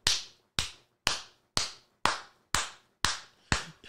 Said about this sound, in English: I hear a lot of clapping out here.